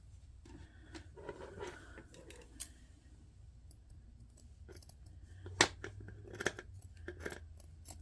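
Scissors snip close by and faintly, cutting away excess embroidery fabric in a few sparse, crisp clicks against a quiet background.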